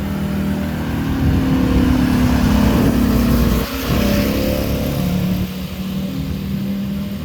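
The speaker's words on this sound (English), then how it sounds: "There's a lorry reversing into me." A lorry reverses nearby, its heavy diesel engine droning loud and steady with a brief dip partway through, in a street setting.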